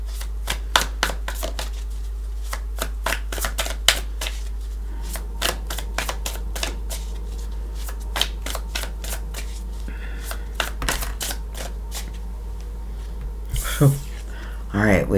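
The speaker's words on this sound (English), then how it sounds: "Let's go ahead and shuffle." Tarot cards are shuffled by hand in a steady run of quick, crisp riffling snaps close to the microphone, with a low constant hum underneath and a brief rustle near the end.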